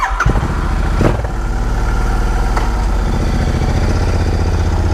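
A Royal Enfield Interceptor 650 motorcycle with an AEW exhaust fitted with dB killer baffles runs close by with a steady, deep, throbbing idle and a brief blip of the throttle near the start.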